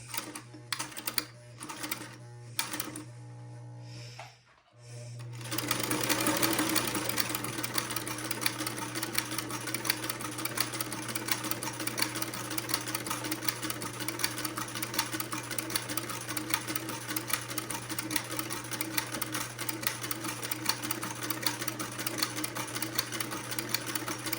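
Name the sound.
sewing machine stitching a keyhole buttonhole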